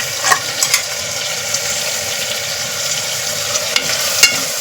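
Raw tomato puree sizzles steadily in a hot pan for a tomato pulao, with a few stirring clicks near the start and end of the frying.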